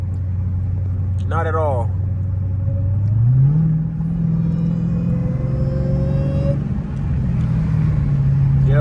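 The 820hp Dodge Challenger Hellcat Redeye's supercharger whines, rising in pitch as the engine revs, over a deep exhaust rumble, while someone speaks briefly nearby.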